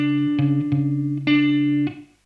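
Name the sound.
palm-muted guitar riff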